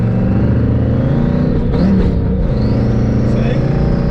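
A car fitted with a faceplated Tremec TKO manual transmission revs its engine to rev-match a shift, a loud droning rumble whose pitch swells and climbs, with a voice talking over it.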